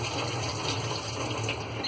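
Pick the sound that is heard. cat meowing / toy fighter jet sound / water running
water running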